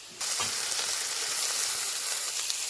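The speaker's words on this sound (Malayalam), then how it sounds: "ഇനി ഇതിലേക്ക് അര കിലോ കഴുകി കട്ട് ചെയ്തെടുത്ത ക്യാരറ്റ് ഇട്ട് കൊടുക്കാം" Half a kilo of washed, cut carrots tip into a hot frying pan, setting off a loud, steady sizzle and frying crackle that stays even and close with no voices.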